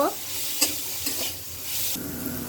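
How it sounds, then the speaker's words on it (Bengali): Dal being stirred and mashed with a wooden masher in a hot pot, a close sizzle broken by repeated scraping strokes and soft knocks, growing louder toward the end. "এই যে আমার মায়ের ডেলটা ঘুটা দিয়ে দিচ্ছে"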